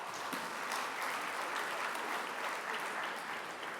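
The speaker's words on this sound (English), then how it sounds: "Round of applause for the crowd." Dense, sustained clapping from an audience at a volunteer awards ceremony fills the room, steady and loud throughout with no voices over it.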